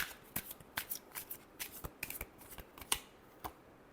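Tarot cards being shuffled during a Capricorn reading, a quiet run of crisp, irregular riffling snaps and flicks close to the mic, with no voices.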